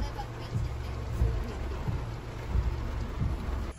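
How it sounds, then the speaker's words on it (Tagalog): Heavy rain falling at a campsite, a dense steady hiss with low rumbling thuds and pattering on surfaces nearby, continuous throughout. "It's raining, Dogo."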